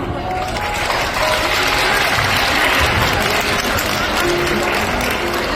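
Wedding guests giving warm applause during a ceremony, a full, steady wall of clapping from a large crowd lasting throughout, with some murmuring voices underneath.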